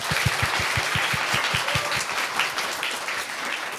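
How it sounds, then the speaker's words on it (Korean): A studio audience at a live Final Fantasy XIV broadcast applauds loudly and up close, opening with a run of rhythmic, thumping claps that settles into continuous dense clapping. "다시 한번 박수 부탁드립니다"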